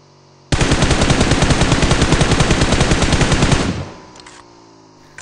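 Automatic gunfire in a battle-royale shooter game rattles in a rapid, loud, sustained burst for about three seconds, then cuts off, leaving faint background engine hum and a few later clicks.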